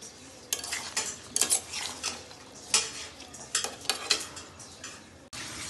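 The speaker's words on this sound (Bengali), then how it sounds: "সুন্দর করে নেড়ে চেড়ে দিচ্ছি যাতে সব কিছু সবজি ভালো মতো মিক্স হয়ে যায়।" A spoon scrapes and clinks against a pan as mixed vegetables for a vegetarian Bengali dish are stirred, with irregular metallic knocks over a soft background sizzle, close by.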